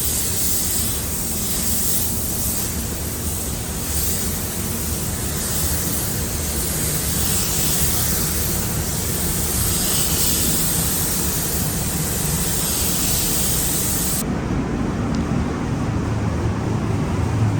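A spray gun lays more paint coats on a car inside a spray booth, giving a loud, steady, broad hiss that runs almost unbroken, then cuts off sharply near the end, leaving a duller booth rumble.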